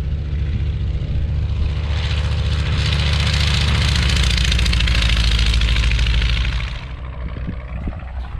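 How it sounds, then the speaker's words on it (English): A Ryan airplane takes off from Poplar Grove airport, its propeller engine a loud, steady, sustained roar that swells to a peak and then drops away as it departs, with no one speaking. "Just had a Ryan take off, one of our neighbors."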